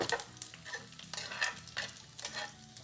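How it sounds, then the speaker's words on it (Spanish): Dried chiles frying in a little oil in a clay cazuela, with a soft sizzle and repeated stirring scrapes in uneven bursts, fairly quiet and close. "Aquí tengo una cazuela con un poco de aceite. Voy a poner los chiles, le voy a dar una pasadita."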